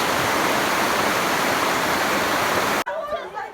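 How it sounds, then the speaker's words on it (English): Hot spring water flowing steadily in the mountains near Bishkek, Kyrgyzstan, a loud continuous rushing wash that cuts off abruptly near the end, leaving quieter ambient sound. "Ooh, there's a spring."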